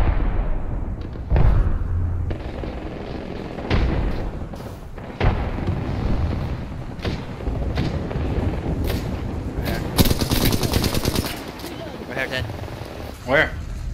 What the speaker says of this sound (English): They're shooting on the right.